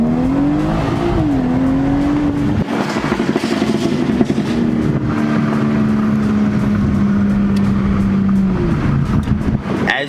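A 2018 BMW 340i with the B58 engine pulls hard from a roll at about 10 mph, its loud, steady engine note climbing through the gears with brief shift dips, alone without talk.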